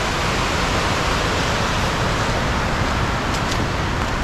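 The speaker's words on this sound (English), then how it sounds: "There's a small waterfall there" Small waterfall on a forest trail beside the Hijagawa River in Okinawa, a steady broadband rush of falling water, loud and constant throughout with no voices.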